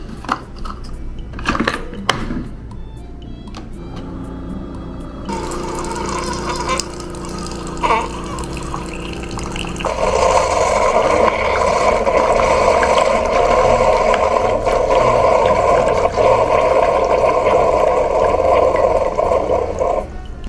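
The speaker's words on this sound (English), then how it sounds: "these Keurig machines come in handy" A Keurig coffee machine brews hazelnut coffee. A few mechanical clicks and knocks lead into a low hum, then a steady, louder pumping hiss and gurgle that runs without interruption to the end.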